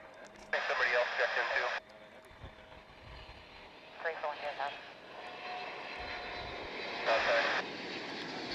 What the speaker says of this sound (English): It's a 777 coming in from London Heathrow. It's American Airlines Flight 51.